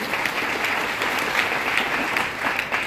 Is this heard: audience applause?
yes